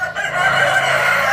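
A male breeding-line rooster kept as a stud for meat chicks crows loud and close in one long drawn-out call, with no talking over it.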